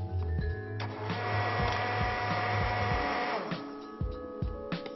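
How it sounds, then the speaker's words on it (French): A kitchen blender purees a chive cream preparation, a loud steady whirring motor that runs for several seconds with no voices over it. "Je vais mixer la préparation."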